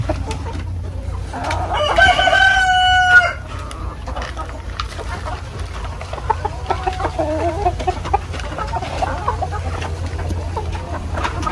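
A rooster on a poultry farm crows loudly once near the start, with hens clucking and scattered fowl calls continuing afterward over a low steady hum.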